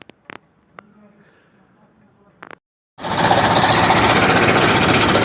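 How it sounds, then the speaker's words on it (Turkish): A water well drilling rig starts boring into the ground, bursting in after quiet knocks and a pause as a loud, dense, rapid mechanical hammering that runs steadily to the end, close to the recorder. "Konyalı Mustafa'nın bastığı yere Allah'ın izniyle delmeye başladık."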